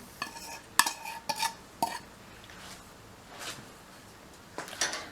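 Milk powder and butter being stirred in a pan over medium heat, a quiet dry scraping with a cluster of clinking spoon-on-pan knocks early and again at the end, faint sizzle beneath, nobody speaking.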